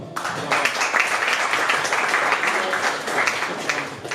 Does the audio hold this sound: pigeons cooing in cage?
no